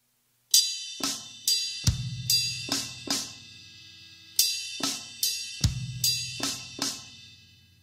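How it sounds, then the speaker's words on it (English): Drum kit plays a 3/4 groove: bright, ringing strikes on the ride cymbal bell, with snare hits and deep bass drum thumps. Two matching phrases of clear, evenly spaced hits ring out close and alone. "Now I went between the bell of the ride, the snare, and the bass drum."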